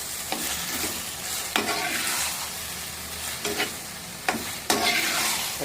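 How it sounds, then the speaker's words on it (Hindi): Vegetable pasta in red sauce stirred in a pan, with repeated scraping strokes of a utensil over a steady low sizzle, close and moderately loud, no voices. "अब इसे अच्छी तरह मिक्स कर लेना हमने।"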